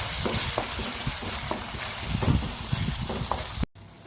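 Masala for a banana-leaf-wrapped mackerel fry crackles in oil in a pan, a dense close sizzle broken by repeated scraping strokes of a spatula, ending abruptly.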